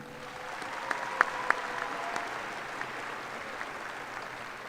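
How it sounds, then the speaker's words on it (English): Steady audience applause at a university commencement ceremony, a dense wash of many hands clapping with a few sharper claps standing out, continuing throughout. "Would you please join me in a round of applause for Dr. Barton?"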